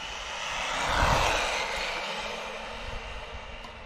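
A ZD Racing RX12 RC car motor runs at full throttle, a steady broadband whine-and-rush that swells near the middle and then holds, fairly loud and close with no talk.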